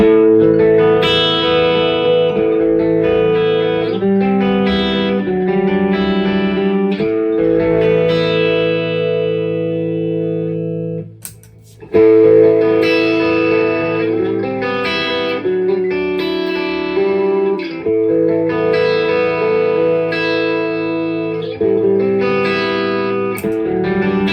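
Electric guitar played through a Kemper amp profiler, processed amp tone with sustained chords and reverb, pausing briefly midway before resuming with loud, ringing notes.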